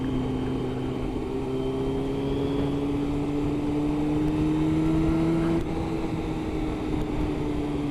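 A Yamaha Thundercat 600cc motorcycle engine revs hard on a local road ride, its loud droning note climbing steadily in pitch before dropping sharply, then settling back to a steady hum.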